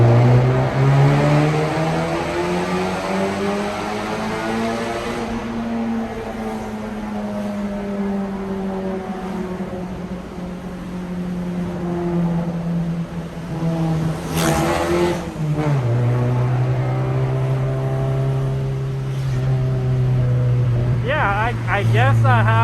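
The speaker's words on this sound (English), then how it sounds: "I guess I have enough of sound bites of this motor with this exhaust" A Honda Civic engine with an aftermarket exhaust drones loudly from inside the car, its pitch swelling and dropping as it revs up and eases off, with a sharp rev near the end.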